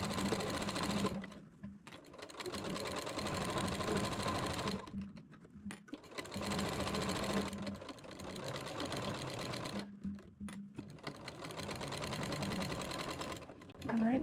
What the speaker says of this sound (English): We are just top stitching it to keep it closed.